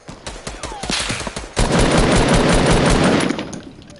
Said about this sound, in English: I'm about to destroy this guy with a new shotgun